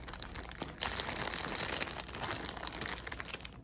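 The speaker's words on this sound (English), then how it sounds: "So we're gonna see if I can get this open without scissors." Plastic packaging around cotton yarn crinkles and crackles as it is pulled open by hand without scissors, a close, fairly quiet run of irregular rustling and crunching with no talking.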